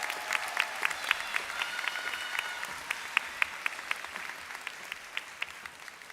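Graduation ceremony audience gives a steady round of applause, with many hands clapping in a dense wash that carries a few sharper individual claps, moderately distant and sustained throughout.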